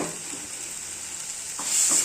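Mutton curry frying in a pan, stirred with a ladle, making a soft, steady sizzle with a couple of brief scraping stirs near the end.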